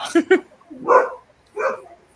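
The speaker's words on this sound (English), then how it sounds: "Sorry about the barking dogs." Dogs barking in a few separate bursts: a quick double yap near the start, then two louder, longer barks spaced apart, fairly close.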